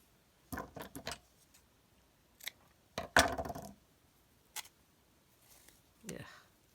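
Scissors snipping through stringy material to cut four equal lengths for a trifold tag, a few sharp close cuts separated by pauses, with quiet handling noises between.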